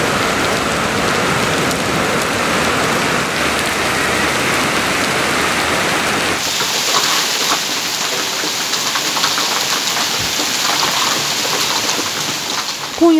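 Heavy downpour with hail in Konya, Turkey, a loud, dense, steady hiss of rain and pelting ice that runs unbroken for the whole stretch and sharpens partway through, with no voices.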